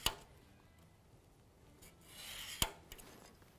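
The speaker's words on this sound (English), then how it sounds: "We're going to use a carbide scribe just like we would with die cam or layout fluid." A carbide scribe scratches a line into sheet metal, giving quiet, close rasping strokes with a sharp click partway through and faint scraping afterward.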